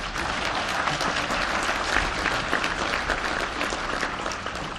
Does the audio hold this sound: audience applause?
yes